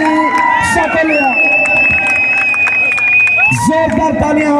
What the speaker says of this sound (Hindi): इस साल के चैंपियन का स्वागत कीजिए जोरदार तालियों के साथ